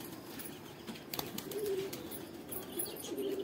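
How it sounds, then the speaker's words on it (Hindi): Pigeons coo softly in a loft as the birds head back inside after feeding, low murmuring calls recurring over a faint background with occasional wing flutters and rustling. "और अभी कबूतर जा रहे हैं, अपने सभी गए अभी अंदर"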